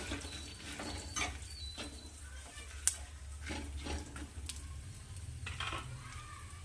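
Garlic, red chillies and coconut roast slowly in a pan for a spicy chutney, with a faint, soft sizzle and intermittent scraping stirs of a spoon recurring every second or so.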